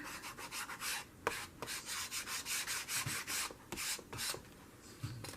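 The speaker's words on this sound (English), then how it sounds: "Using my new scraper." A scraper rubbing back and forth over paper in a junk journal, a steady close rhythm of rasping strokes with a few sharper taps mixed in, no talk.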